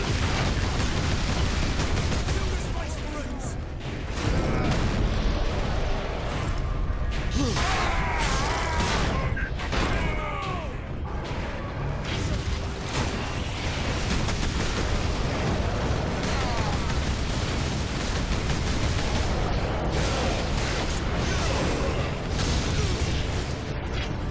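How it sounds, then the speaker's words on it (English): Gunfire and explosions fill a battlefield in the Warhammer 40,000: Space Marine video game, with dense, continuous bursts and blasts layered loudly throughout alongside heavy combat noise. "the battlefield has become a much more active place now that more people are shooting at me"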